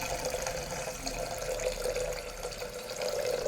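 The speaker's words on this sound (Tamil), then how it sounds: "அடி கனமான பாத்திரத்தில் தேவையான அளவு தண்ணி சேர்த்துக்கலாம்" Water, about one and a half tumblers, being poured into a heavy-bottomed cooking pot, a steady close splashing rush that runs unbroken and alone.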